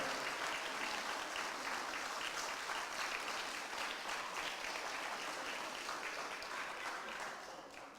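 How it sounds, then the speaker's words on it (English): Steady applause from a crowd, dense and sustained, fading slightly at the end. "let's give her a round of applause"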